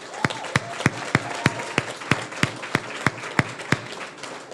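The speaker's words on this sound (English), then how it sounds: "And let's give them a round of applause." An audience at a 2018 Bridgeview school graduation ceremony claps, with sharp claps landing at an even, rhythmic pace over a softer wash of crowd applause.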